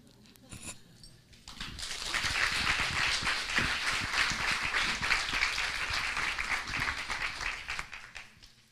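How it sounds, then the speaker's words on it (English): An audience applauds a performer named Maura at an inspirational talk, clapping building from quiet to a full, steady round that carries on for several seconds before tapering slightly. "another round of applause for Maura"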